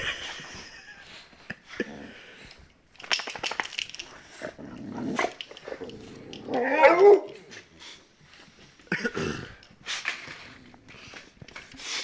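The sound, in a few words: pet dogs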